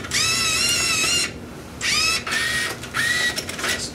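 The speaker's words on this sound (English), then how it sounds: "as soon as you insert the bill again, it'll go back into its home position, then accept the bill." A Coinco Vantage bill acceptor drawing in a bill whirs in three separate motorized bursts, each a high, whining mechanical buzz with short pauses between, close and fairly loud.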